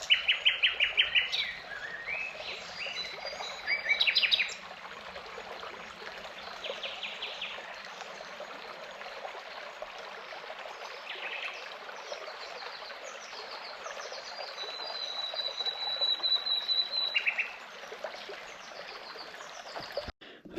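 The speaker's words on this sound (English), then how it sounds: "the bird calls are great" Bright bird calls and chirps ring out over a steady rush of flowing water in a valley in Cappadocia, Turkey, some calls close and clear, others fainter in the distance.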